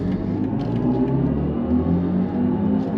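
A 2023 BMW i4 M50 AWD electric car accelerating from the cabin gives a steady low synthetic hum and rumble with a rising whir, continuous and fairly loud throughout.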